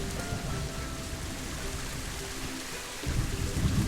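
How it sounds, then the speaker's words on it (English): Thunderstorm with rain in the zoo-building game Planet Zoo, a dense hiss of falling rain with low rolling thunder that swells louder toward the end, no voices. "Ah, yes. Thunderstorm."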